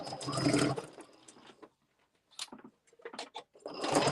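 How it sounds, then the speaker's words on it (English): A sewing machine stitches a seam on a Luxe Cuddle Fair Isle wrap, running in a steady close burst, pausing briefly amid light handling noises, then starting up again at the end. "we're going to start sewing our seam"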